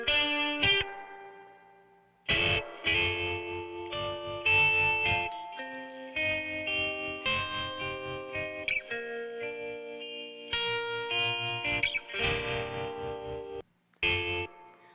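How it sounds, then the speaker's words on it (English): Synth or guitar arpeggios run through spring reverb for a throwback tone, layered with other mix elements and effects, playing continuously with brief drops near the start and end. "kind of more of a throwback sound with some spring reverb on it"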